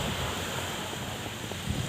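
Seaside ambience beside a beachfront eatery, a steady broad wash of surf and wind noise with soft low rumbles and no voices.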